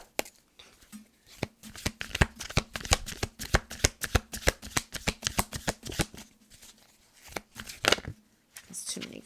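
Tarot cards being shuffled up close, a dense run of sharp papery riffles and slaps that continues steadily for several seconds, with a brief pause near the end before a final few flicks.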